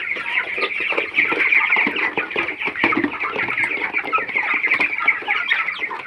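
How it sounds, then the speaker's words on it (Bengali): Chickens on a farm cluck busily and continuously while being fed, a dense close chorus of overlapping clucks with no talking. "আমাদের সকল মুরগিগুলো কিন্তু খাবার দিয়ে দিলাম"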